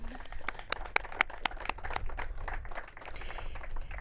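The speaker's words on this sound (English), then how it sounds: "Let's have a round of applause." Scattered audience clapping at an outdoor ribbon-cutting ceremony for a water storage project on former citrus land, sharp irregular claps spread through the four seconds at moderate level over steady background noise.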